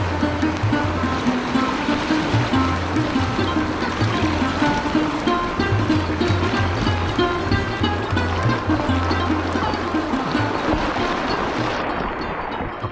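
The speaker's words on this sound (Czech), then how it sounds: "A pršelo docela hustě a docela pěknou chvilku." Dense rain falls on the Malše river during a spring boating trip, a steady hiss of water over a low rhythmic knocking, continuous and loud throughout.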